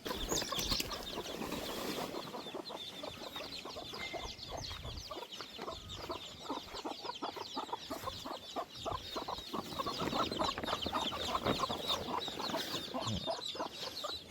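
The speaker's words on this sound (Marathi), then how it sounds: "मिस्टर कोंबडा बघा लगेच सुरू झाला फिमेलवर लाईन मारायला" A rooster courting a hen outdoors at a farm resort, with dense, continuous clucking and rapid repeated calls from several fowl, fairly close and steady throughout, no speech.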